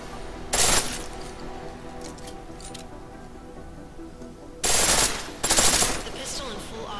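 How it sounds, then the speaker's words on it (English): Bursts of rapid automatic pistol fire in Deus Ex: Mankind Divided, one short volley followed later by two louder back-to-back bursts, each sharp and crackling over a quiet game backdrop. "The pistol in full auto will take down targets fast"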